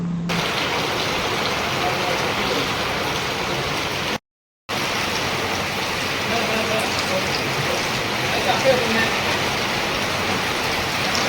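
Heavy rain pours down in Theni, a loud, unbroken hiss of drops on surfaces that cuts out briefly before resuming just as strong.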